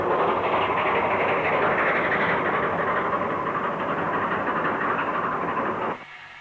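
A vintage narrow-gauge steam locomotive, Number 4, rolls in past a carriage shed, a steady rumbling, hissing rail noise held at constant loudness that drops away abruptly near the end.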